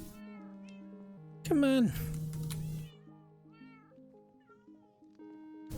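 Cats in Minecraft meow several times, one loud close meow standing out among fainter repeated mews, alongside steady background music and a person speaking briefly.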